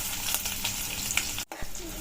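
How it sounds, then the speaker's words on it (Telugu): Mustard seeds, cumin and curry leaves frying in hot oil in a wok-style pan, giving a loud, close, steady sizzle with scattered pops and spits that briefly cuts out before resuming. "బాండీలో ఆయిల్ వేసుకొని ఆయిల్ వేడయ్యాక అందులో ఆవాలు, జీలకర్ర,"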